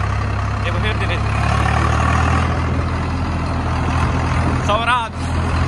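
A tractor engine runs steadily among desert sand dunes and hills, a heavy low idle with some revving swell, loud and close, while voices speak over it.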